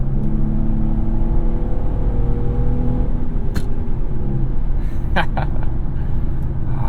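Engine of a 2008 Infiniti M35x pulling through manually selected gear shifts, a steady loud low rumble and whir inside the cabin with rising tones, continuous throughout.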